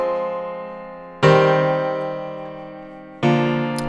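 Software instrument chords generated with Captain Plugins and played through SampleTank: two bright, sustained chord strikes, the first held and slowly decaying before the second hits, clear and alone.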